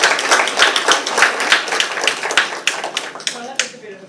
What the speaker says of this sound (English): big round of applause for our keynote speaker